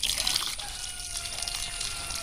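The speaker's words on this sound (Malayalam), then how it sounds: "ആദ്യം നന്നായിട്ട് വെള്ളം ഒഴിച്ചു കൊടുക്കാം" Water pouring and trickling steadily, a soft continuous splashing stream close by.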